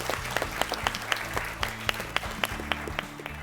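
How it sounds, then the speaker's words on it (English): An audience applauds a team during a school quiz competition, a steady patter of many hands clapping with sharp individual claps standing out, sustained and fairly close throughout. "Ladies and gentlemen, please clap for them."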